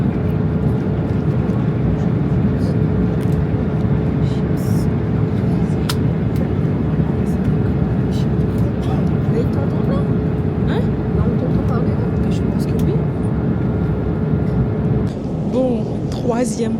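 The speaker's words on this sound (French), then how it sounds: "on est dans l'avion, on va grignoter" Constant low roar of an airplane cabin in flight fills the whole stretch, steady and unbroken, with a few faint clicks and knocks on top.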